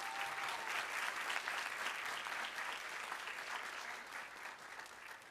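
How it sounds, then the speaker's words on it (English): Graduation attendees give a sustained round of applause for parents and families, a dense steady wash of many hands clapping at a distance that stays even and then fades slightly. "staff and graduates, give your parents and families a round of applause"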